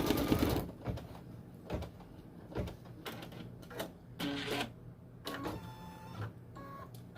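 A single needle embroidery machine stitching an appliqué onto a sweatshirt, with bursts of rapid mechanical stitching and whirring separated by short pauses, close and steady.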